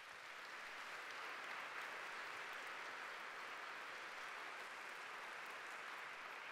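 Sustained applause from a church congregation at a Catholic Mass, a steady, dense wash of many hands clapping throughout, fairly distant and even in level with no talk over it.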